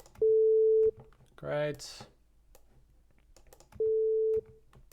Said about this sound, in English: I'm going to open up a sine wave